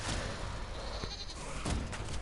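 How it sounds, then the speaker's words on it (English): Sheep bleating in the fantasy video game Elder Scrolls Online, a few drawn-out wavering calls over a constant game background hum, fairly close. "Come on, Thunderbug, let's go away from the sheep."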